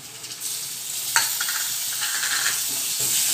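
Chopped tomatoes dropping into onions frying in hot oil, a loud continuous sizzle that flares with a spatter when they land, followed by stirring scrapes in the pan.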